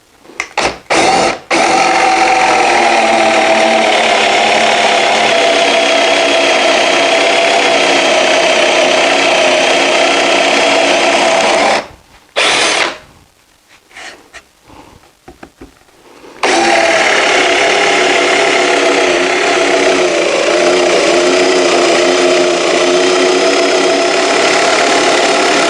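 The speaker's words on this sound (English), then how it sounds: "I'll just have to use a handheld drill instead." A handheld electric drill boring holes in wood whirs loudly and steadily, stops for a few seconds, then runs again at full speed.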